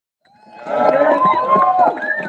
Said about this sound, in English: We need to give a round of applause for this local.